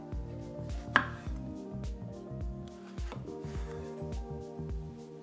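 A knife slices San Marzano tomatoes lengthwise on a cutting board, giving a series of soft, evenly spaced taps and thuds with one sharper clack, close and fairly quiet.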